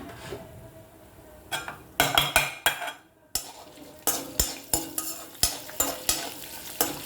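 Mustard seeds, cumin and lentils fry in hot oil as a tempering for a cabbage, carrot, beans and paneer curry, with a spoon clanking repeatedly against the pan over a crackling sizzle, close and alone.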